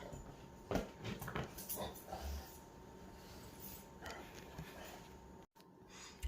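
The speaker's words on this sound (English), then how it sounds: "My dog is spazzing out on the couch." A dog whimpers and snorts on a couch, fidgeting and shuffling about, with soft rustles and a few sharp bumps amid quiet indoor room noise.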